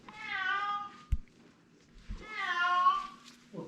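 An unhappy cat shut in a living room gives two drawn-out meows, each about a second long, clear and fairly close, with brief knocks between them and no speech.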